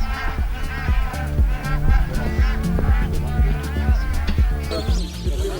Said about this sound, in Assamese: মাজুলীৰ জলাশয়ত ভৰি পৰিছে পৰিভ্ৰমী চৰাই